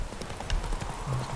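Horse hooves clip-clopping in The Witcher 3 video game, a quick, close run of rhythmic hoofbeats, moderately loud and alone.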